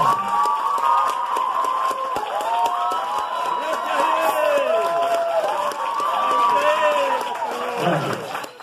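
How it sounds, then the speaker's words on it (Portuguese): A wedding crowd at an event venue cheers and applauds for a couple's kiss, a steady mass of shouts, whoops and clapping lasting throughout. "eu vou pedir aplausos e muita alegria para o beijo do Charlie e da Rosiane"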